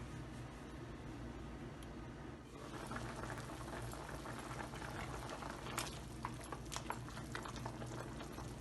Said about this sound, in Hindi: 10 मिनट तक हम इसको बॉईल करेंगे